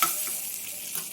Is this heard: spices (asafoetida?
yes